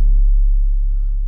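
A deep 808 bass tone on an Akai MPC with the low-frequency gain boosted sustains alone, thick low rumble with a slight retrigger partway through, no other instruments.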